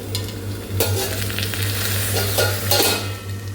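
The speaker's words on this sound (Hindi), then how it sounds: "यहाँ सब्ज़ी जो है वो छोंकते हैं" Vegetables tempering in hot refined oil in a home kitchen, a dense continuous sizzle with scraping stirs from a spatula and a steady low hum underneath, close and fairly loud, no voices.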